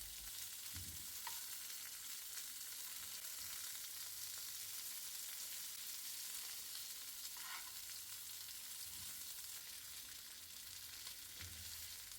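Butter and garlic chicken pieces fry in a pan, giving a steady, continuous sizzle and crackle that holds evenly throughout with no voices.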